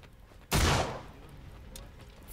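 A single sharp burst of gunfire in the game I Am Alive, loud and close, with a long decaying tail that fades into quiet background ambience.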